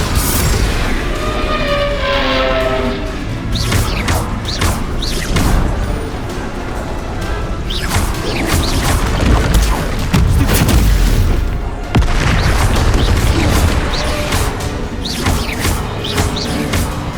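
Bombarda spell explosions in Hogwarts Legacy on PS5, a run of loud, heavy booms and crashing blasts over a dense game score, with repeated impacts throughout.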